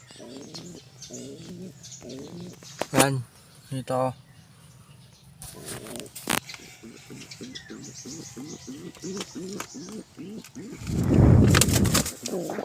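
Homing pigeons coo softly in a loft, with repeated low throaty calls and faint chirps, quiet and close, while someone talks intermittently and some rustling rises near the end.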